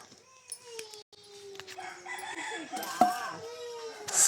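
A rooster crows with a long drawn-out call, fairly close, amid faint background bustle and a sharp knock near the end.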